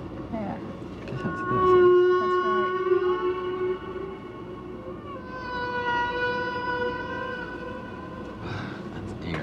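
Recorded humpback-style whale song played back from tape, long eerie tonal moans and rising, sliding cries stacked in harmonics, lasting several seconds each with a short pause between phrases, fairly loud over a faint hiss.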